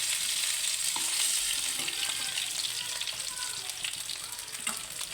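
Fish pieces frying in hot oil in a pan, a loud continuous close sizzle and crackle with occasional small pops and utensil clinks, no voices.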